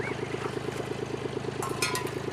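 A tractor engine chugging at idle nearby, a steady rapid thumping rhythm throughout, with a brief clatter near the end.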